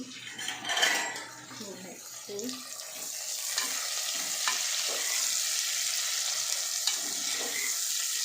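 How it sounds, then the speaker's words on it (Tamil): Sliced onions sizzling in a pan with cinnamon, cardamom and cloves, under a steady frying hiss, with a spoon stirring and scraping the pan and a voice talking briefly at the start. "வெங்காயம் பட்டை ஏலக்காய் கிராம்பு சார்பு மூணு போட்டிருக்கேன் நல்லா வதங்கிட்டேன்"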